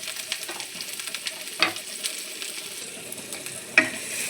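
Chopped capsicum sizzles in a hot pan with garlic and ginger, a steady close frying hiss broken by a couple of sharp spatula scrapes and stirs.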